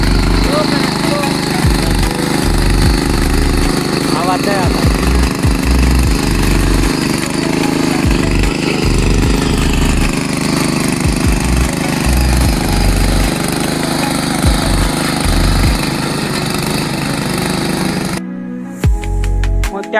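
A small tractor engine runs on an organic farm, a loud steady mid-pitched drone with uneven knocking pulses, close by and continuous for most of the stretch before cutting out abruptly near the end.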